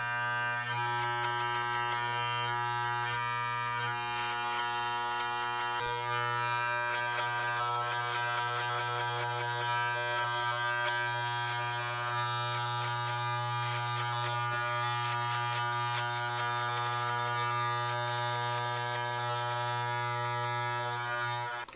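Electric hair clippers fitted with a number one guard cut hair in a steady, close buzzing hum that runs unbroken for the whole stretch, with no talking.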